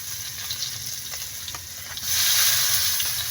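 Garlic and onion hit hot oil in a pan with a steady sizzle, swelling into a louder, spattering fry partway through, with light clinks of stirring throughout.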